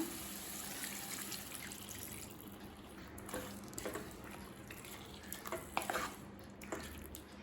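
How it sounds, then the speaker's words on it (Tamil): Water pours and splashes steadily into a pan of chicken masala gravy, a soft liquid trickle with a few small clinks, no speech. "இப்போ 1/4 கப் தண்ணி சேர்த்துக்கலாம்."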